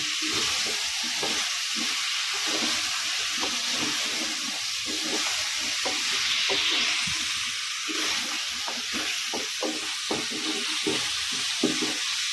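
Drumstick and potato curry sautés in a pan, a steady close sizzle under repeated stirring scrapes and light clicks of the spoon at an uneven rhythm.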